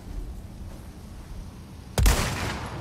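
A single gunshot in the video game Resident Evil 4 Remake cracks out sharply near the end after quiet ambient background.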